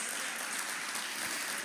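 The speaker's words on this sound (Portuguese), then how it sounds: "aplauda ao Senhor" A church congregation applauds during a worship service, a dense, steady wash of clapping from many hands that fills the room evenly with no voices above it.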